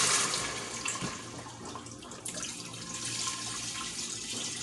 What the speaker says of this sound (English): let's go ahead and pour in the chicken broth.